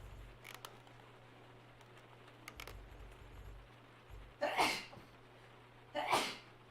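Two short, sharp sneezes a second or so apart, fairly close and loud over a quiet room with low hum, during an online racing session at Road America.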